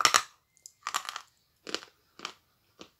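A big piece of chalk is bitten and crunched close to the mouth, giving sharp dry crackling bursts in five separate bites with silent gaps between them and no talking.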